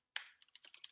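Computer keyboard backspace key pressed repeatedly, a sharp first click followed by a quick string of lighter, faint clacks, close and quiet.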